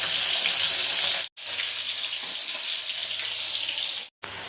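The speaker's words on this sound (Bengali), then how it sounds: "এখানে মাছ ভাজা চলছে" Fish fries in a pan with a steady, dense sizzle that holds for several seconds and cuts out briefly twice. No one speaks.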